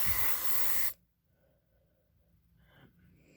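A short burst of aerosol spray aimed at a 1987 smoke detector, a loud close hiss lasting about a second before cutting off into near silence.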